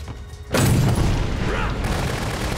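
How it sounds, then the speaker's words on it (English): A grenade goes off in the video game Dead Rising Deluxe Remaster: a sudden loud, close blast erupts after a brief quiet lead-in, then rolls on as a dense, rumbling roar that slowly fades. "Motherfucker threw a grenade!"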